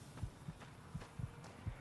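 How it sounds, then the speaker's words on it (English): A low-health heartbeat in the video game Fallout New Vegas, soft muffled double thumps repeating in a steady rhythm about twice a second, quiet and alone with no talk. "So I stop hearing my heartbeat"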